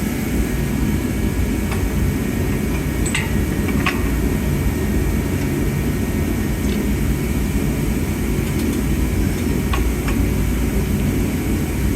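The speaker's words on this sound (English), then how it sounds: "Sorry about the background noise. We got the heater on." A heater running in a workshop during a Land Rover Defender swivel pin rebuild, producing a loud, steady broadband roar throughout with a few faint clicks and knocks over it; no speech.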